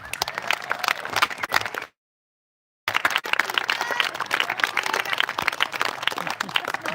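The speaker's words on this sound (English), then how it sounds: "how about a big round of applause for our Hall of Fame members?" Audience at a disc golf Hall of Fame induction ceremony claps for the honored members, a dense crackle of many hands that cuts out for about a second and then resumes just as full.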